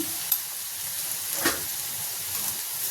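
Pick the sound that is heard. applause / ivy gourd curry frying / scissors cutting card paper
ivy gourd curry frying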